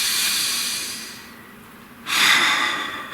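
One person takes a slow audible breath, an airy exhale fading out before a sharper, louder intake of air near the close.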